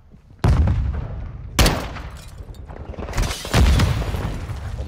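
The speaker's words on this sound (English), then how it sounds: "Taking effective fire!" Heavy gunfire and explosive booms in Call of Duty DMZ, with three loud bursts at the start, middle and end of a continuous roar of shooting, close and dense with no talk.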